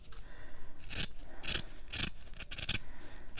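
Scissors cut through fabric during a grungy fabric craft project, four crisp, close snips spaced about half a second apart over a soft rustling background, with no talking.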